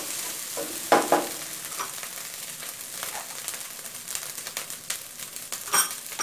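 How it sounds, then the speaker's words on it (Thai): Shrimp fried rice stir-frying in a pan, with a steady close sizzle and intermittent scraping and tossing clatters, louder bursts near the start and end, no voices. "ข้าวผัดต้องข้าวคั่วแห้งๆข้าวมันก็จะเป็นเม็ดๆนะคะ"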